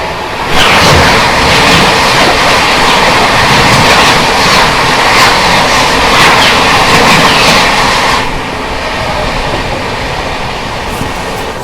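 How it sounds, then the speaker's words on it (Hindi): Prayagraj–New Delhi non-stop Humsafar Express passing close by at speed, a loud steady rush of wheels and carriages with rhythmic clatter that drops to a quieter rumble near the end. "यहाँ पर आ रही है अपनी प्रयागराज नई Delhi non stop Humsafar express."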